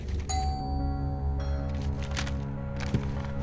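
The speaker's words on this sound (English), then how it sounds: "I rang my neighbor's doorbell" A two-tone doorbell chime from a short film sounds once near the start, with its tone lingering over a steady low hum, followed later by a faint clunk.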